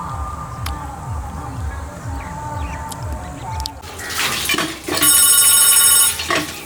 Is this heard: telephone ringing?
yes